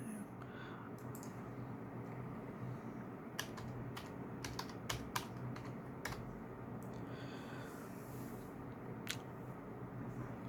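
Someone types a password on a computer keyboard in a quiet room. The keystrokes click faintly in an irregular sequence over a low background hum.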